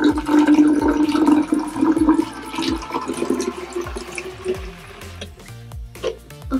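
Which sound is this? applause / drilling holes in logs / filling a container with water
filling a container with water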